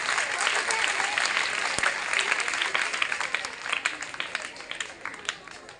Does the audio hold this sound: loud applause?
yes